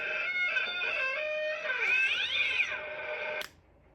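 A cat's drawn-out, wavering meow or yowl lasting a few seconds, fairly close and clear in a quiet room, ending abruptly.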